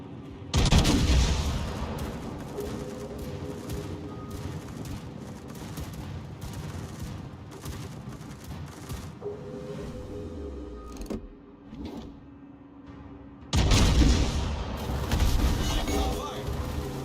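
Heavy naval gun salvos from warships in World of Warships, loud rumbling booms at the start and again near the end, with a continuous roar of battle noise and game voice lines between.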